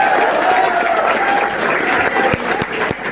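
Audience at a comedy show in Mathura breaks into loud, dense clapping that holds steady for about three seconds, close and continuous without a break.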